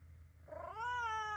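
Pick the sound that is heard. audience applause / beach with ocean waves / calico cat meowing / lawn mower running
calico cat meowing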